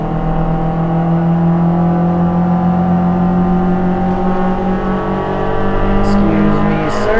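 Simulated Spec Miata engine in a VR racing game at Harris Hill, a steady loud drone climbing slowly through the revs, with a voice talking over it throughout.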